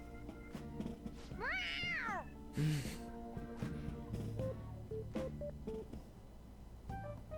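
A cat meows in the video game Persona 5 Royal: a clear rising and falling meow near the start, set over game music with soft thuds and blips.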